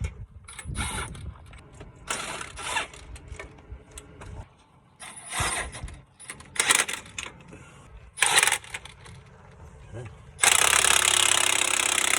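A ratchet wrench tightens hardware on the hub of a 2015 Ford F350 during a bearing and brake job, giving bursts of clicking and mechanical clatter in a garage, with brief pauses and a louder, steady noise near the end.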